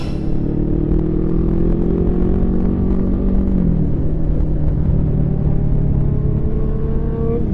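A big motorcycle ridden through traffic, its engine a loud, steady close-up rumble with a tone that drops partway through, over constant road and wind noise.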